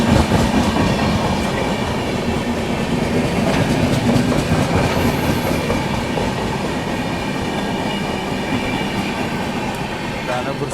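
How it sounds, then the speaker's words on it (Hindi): The Delhi–Rajgir Shramjeevi Express runs on the tracks near Danapur in India, with a loud, continuous rumble and rhythmic clatter of wheels close by, and faint squeals over the steady roll. "दानापुर से भी अपनी गाड़ी निकल चुकी है।"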